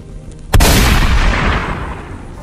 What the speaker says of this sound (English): I heard the shotgun fire and waited for the pain